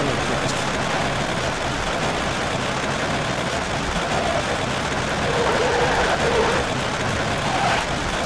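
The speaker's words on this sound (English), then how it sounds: "The running sound of the truck is kind of awful." A truck engine runs in the racing video game World Truck Racing, giving a steady, rough drone that holds at an even level throughout.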